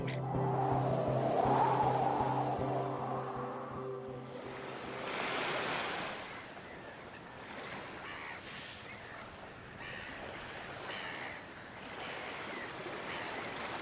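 Sea waves surging and washing in a broad, steady roar, loudest early on, then rolling on in softer swells with a breezy hiss.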